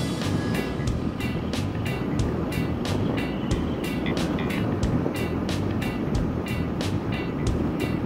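Honda Rebel 300 motorcycle cruising at about 50 mph, a steady low engine drone mixed with constant wind rush, with no talk over it.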